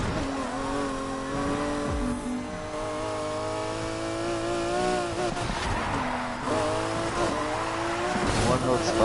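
A race car in The Crew 2 holds full throttle, its engine droning in a steady high harmonic whine with brief shifts and dips in pitch and a squeal of tires, while someone talks over it.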